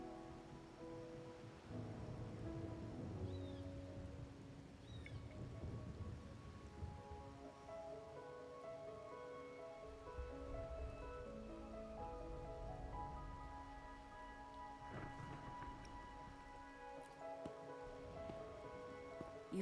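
Rainfall in the video game Wuthering Waves, a steady wash of rain on surfaces under layered music tones, with a low rumble midway.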